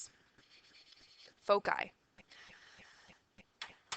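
Marker strokes on a board while sketching parabola foci, several quiet scratchy squeaks and dabs in short bursts, with a couple of sharper squeals near the middle, in a quiet room.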